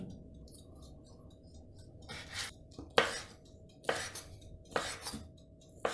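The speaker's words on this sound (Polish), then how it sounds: "W międzyczasie kroimy boczek na słupki." A knife slices bacon into strips for a potato bake, giving several crisp, spaced clicks and taps against a board, quiet and close with a faint hum behind.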